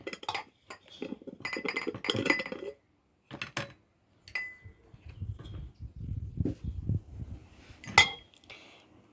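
A glass jar clinks several times as it is picked up and set among dishes in a kitchen where onions are being preserved, with sharp, close taps and a bright ring near the end.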